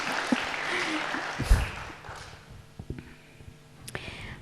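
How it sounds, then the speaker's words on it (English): An audience applauds after an interview introduction, a burst of clapping that fades within a couple of seconds, followed by scattered thumps and faint murmuring. "I think we should give a round of applause."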